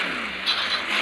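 A motorcycle engine in the video game Gangstar City revs in a brief, steady, fairly loud drone that swells slightly midway.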